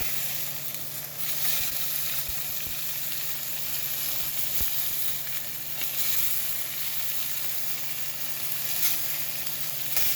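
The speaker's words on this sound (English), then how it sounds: "Let the fish sear, just a little bit of oil." White fish with the skin on sears in a little oil in a pan, giving a steady, close sizzle that crackles without a break from start to finish.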